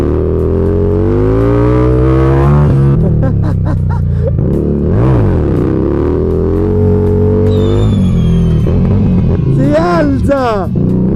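A Harley-Davidson motorcycle lifting into a wheelie on city streets in Naples, its engine revving loudly in repeated rising and falling surges, close by, with an excited voice shouting over it.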